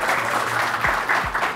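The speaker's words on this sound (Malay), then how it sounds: "Berikan tepuk tangan kepada saya." Studio audience at a talk show applauding, a steady round of clapping at moderate level, with a low thump or two underneath.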